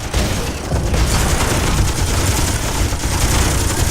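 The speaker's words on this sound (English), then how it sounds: "Turrets are firing on us from all around!" Sustained heavy gunfire from turrets in the sci-fi space game Miner Wars 2081, a dense, continuous barrage of overlapping shots and booms that stays loud for the whole stretch, with no talking.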